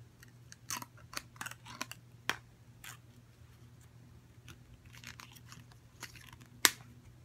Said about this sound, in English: I'm gonna cut off the tag.